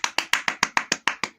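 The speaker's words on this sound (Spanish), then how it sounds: "Otros aplausos." Audience applause after a vocal performance: about ten sharp, evenly spaced claps in a quick steady rhythm, close and clear with nothing else underneath.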